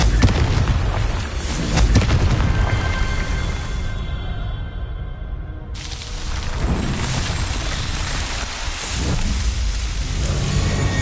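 The Confringo blasting spell in the wizarding game Hogwarts Legacy, heard as loud crackling, rumbling fiery bursts that are sustained and dense, with a brief dip before another surge of noise.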